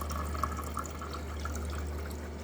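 Tap water runs through a newly fitted water filter in a steady, even stream with faint splashing over a low electrical hum, close and continuous.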